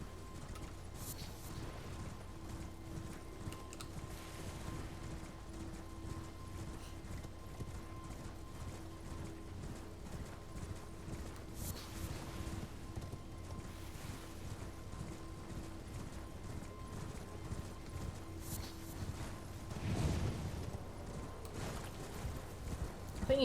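Hooves of Torrent, the spirit horse in the video game Elden Ring, clopping at a steady running rhythm under a low game-music drone, with mechanical clicks and a louder swell near the end.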